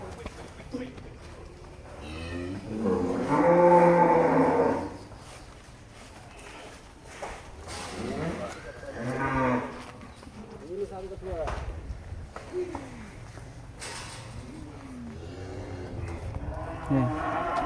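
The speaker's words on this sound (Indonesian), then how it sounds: "Sapi selanjutnya sapi hitam pegon." Black Pegon cattle, tall and heavy beef animals at a farm pen, give several loud lowing moos spread across the stretch, mixed with voices talking nearby.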